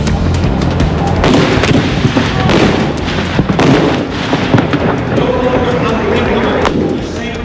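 A loud, continuous barrage of booming blasts and crackling bursts, like explosions or fireworks going off repeatedly, with voices mixed in.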